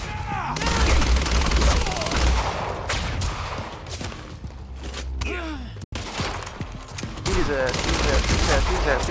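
Bursts of gunfire from the video game Quantum Break, dense and continuous with booms, over a busy battle soundscape with voices and gasps mixed in.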